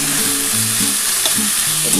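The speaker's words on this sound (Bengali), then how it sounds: "বন্ধুরা দেখো, আমি এটা ঘিটার সাথে একটু ভেজে নিই।" Vegetables frying in ghee for veg fried rice, a steady close sizzle with occasional soft stirring scrapes and no talk.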